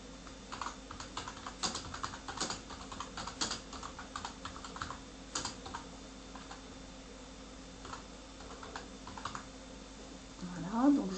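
Quiet, irregular tapping of fingers typing text on a computer keyboard, a close run of light clicks with brief pauses and a soft background hum.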